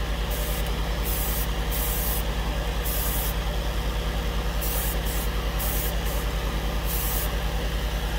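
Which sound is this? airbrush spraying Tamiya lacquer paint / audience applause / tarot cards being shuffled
airbrush spraying Tamiya lacquer paint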